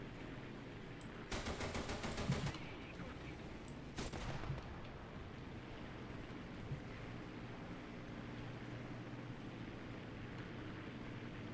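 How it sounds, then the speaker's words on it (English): Rapid gunfire in an Italian Civil War battle game: two short, fast bursts of automatic fire, the first longer, over a steady low rumbling ambience. "they also fire really fast, so you're going to run out of ammo quickly"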